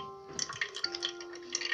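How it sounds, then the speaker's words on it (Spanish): Water is poured over tomato seeds, a quiet series of light splashes and trickles over a faint steady hum, with no talking. "vamos a echarle agua"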